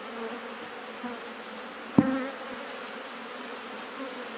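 Honeybees buzzing on a hive frame with fresh comb, nectar and pollen, a continuous low drone of many bees close by, with a single brief knock partway through.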